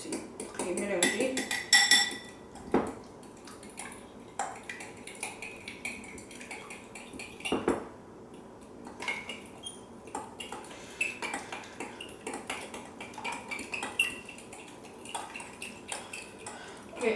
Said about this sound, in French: Mélange tous les ingrédients alors que c'est mélangé.